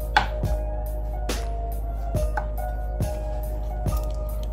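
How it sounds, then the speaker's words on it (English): A knife slices through carrot on a cutting board, five or six distinct crisp cuts at a steady, unhurried pace, close and clear against a quiet kitchen background. "I'm going to slice the carrot just the same"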